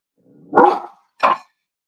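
Dogs bark excitedly indoors, two sharp barks close by, the first longer and rougher, the second short, separated by a brief pause.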